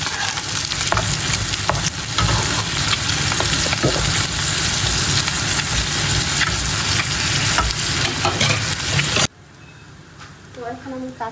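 Onions fry in a hot pan with a loud, steady sizzle and some stirring, lasting about nine seconds before it cuts abruptly to a much quieter moment with faint speech.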